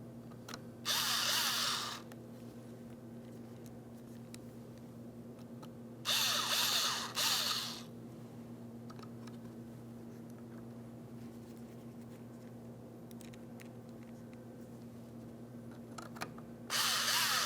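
A powered screwdriver drives mounting screws into a 2003-2008 Toyota Matrix master power window switch trim panel, giving three short whirring bursts separated by pauses over a steady low hum.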